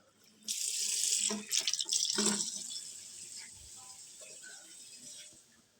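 A kitchen tap gushes loudly into a sink while vegetables are washed for pumpkin soup, the running water splashing and shifting before tapering off to faint drips and handling noises.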